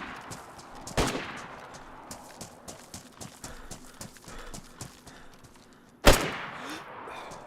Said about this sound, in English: I thought they started shooting at me.